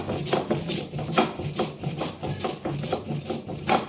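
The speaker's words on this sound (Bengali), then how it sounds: "তো আমি এখন মশলাটা বেটে নেব।" Mustard seeds and dried red chillies ground into a paste for katla fish paturi, a steady rhythmic rubbing and scraping of stone on stone, repeating in even strokes, close and alone.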